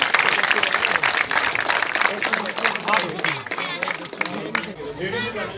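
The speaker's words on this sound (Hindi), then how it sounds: "जोरदार तालियों से स्वागत कीजिए" An audience claps loudly at the launch of a CRPF-run computer class for a civic action programme in Bithli. The applause is dense and steady for the whole stretch, with scattered voices mixed in.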